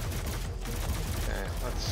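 Enemies fire at the player in Doom (2016), a rapid volley of loud gunshots with heavy low thuds, dense and close, with a brief higher-pitched tone near the end.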